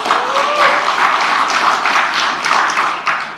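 Audience applause at a political speech in Indonesia, a steady dense wash of clapping from a large crowd that holds for the whole stretch without a voice over it.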